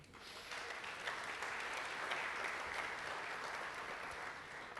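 Audience applause at an NYPD High Holy Days briefing, steady and dense clapping from a sizable crowd that holds across the whole stretch without talk.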